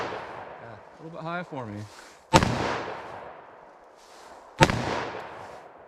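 Two sharp gunshots from short-barrel handguns, .327 Federal Magnum or 9mm, fired at a target by point shooting, a couple of seconds apart, loud and close with ringing decay, after a brief spoken remark.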